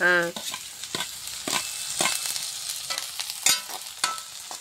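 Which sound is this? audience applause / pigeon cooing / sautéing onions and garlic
sautéing onions and garlic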